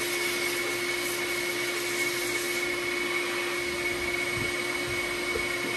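A DIY soda blaster spraying baking soda gives off a continuous, even roar and hiss that stays at a constant level throughout, with no speech.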